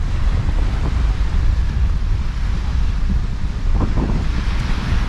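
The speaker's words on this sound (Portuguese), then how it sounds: "Tá ventando pra caramba." Strong wind buffets the microphone in a constant low roar, with a faint splash of water beneath it and no voices.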